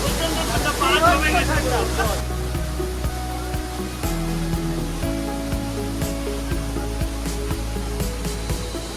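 Kynrem Waterfalls in Cherrapunji, Meghalaya, pours in a steady broadband rush of falling water. The roar stays loud and continuous throughout, with voices faintly mixed in beneath it.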